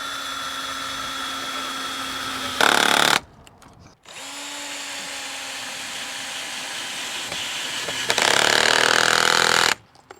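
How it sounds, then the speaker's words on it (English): Power drill driving screws into a custom steel and wood privacy fence, two loud whirring bursts of the motor winding up and cutting off, separated by steadier background machine hum. "10 screws away, and all the screwing for this fence section will be done."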